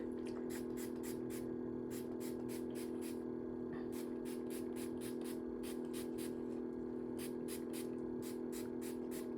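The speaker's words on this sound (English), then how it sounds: "I definitely want to spray this down because" A spray bottle of plain water mists kinky curly hair in quick bursts, a regular run of short, sharp spritzes over a steady low hum, close and fairly quiet.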